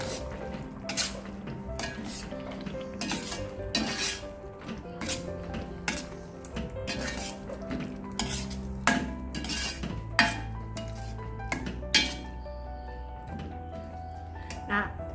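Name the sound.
sambal paste being cooked and stirred in a pan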